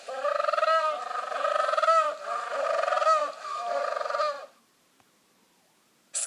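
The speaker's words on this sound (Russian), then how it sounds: "пингвин." A penguin calling: a series of loud, harsh, braying calls repeating close by for about four seconds, then near silence, with a brief burst of sound at the very end.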